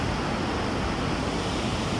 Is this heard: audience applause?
no